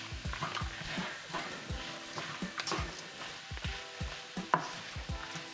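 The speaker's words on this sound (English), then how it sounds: "Just give that a bit of a stir." Red capsicum and vegetables stirred in a hot pan, soft sizzling under repeated scraping and clinking strokes of a utensil, close and fairly quiet.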